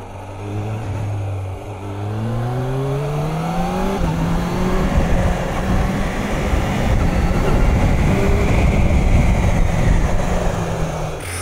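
Motorcycle, either a BMW 1250 GSA or a Kawasaki H2 SX, riding onto gravel, with a loud, steady engine drone whose pitch climbs through rising gear sweeps over a constant rumble of wind and road noise.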